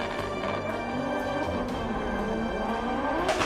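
Drift cars at the FIA Motorsport Games accelerate and initiate a drift, heard as a fairly faint, continuous engine roar with tire noise, steady throughout with no voice over it.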